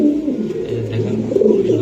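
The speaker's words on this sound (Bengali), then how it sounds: "স্পেশাল কবুতর তারেক ভাইয়ের" A club racing pigeon coos close and loud, a low, rolling, continuous call that swells toward the end.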